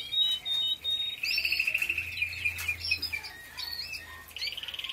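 Several birds chirp and whistle in quick, bright phrases, with tweets overlapping against a quiet outdoor background.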